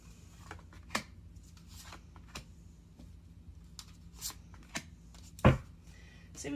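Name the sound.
shuffling a deck of Psychic Tarot cards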